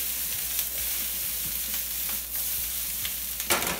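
Brussels sprouts frying in a sautéed pan, a steady loud sizzle broken by several scraping, rattling jolts as the pan is shaken, no voices.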